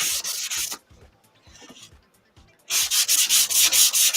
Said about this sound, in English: I'm not sanding in the right direction